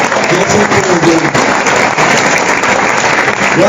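A congregation at a charismatic church service breaks into loud, sustained applause that fills the room as a dense, continuous roar of clapping, with a faint voice or tone running underneath.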